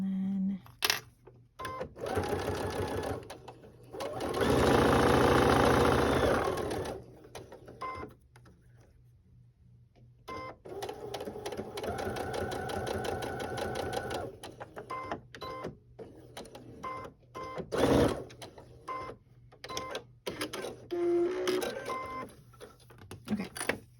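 A sewing machine runs close by in short whirring bursts for a back stitch, with clicks and button presses between the runs.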